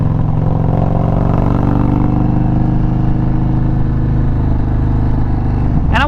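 Indian motorcycle engine on the road through sweeping turns, a steady loud mid-pitched drone with continuous rumble, heard close and without talk.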